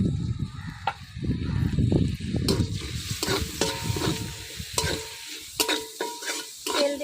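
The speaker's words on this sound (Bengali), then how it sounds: "তেল দিয়ে ভাজা করে নেবো একটু" Chilli and garlic fry in oil in a kadai, heavy scraping and stirring at first, then giving way to a bright, crackling sizzle with sharp spatters, close and loud.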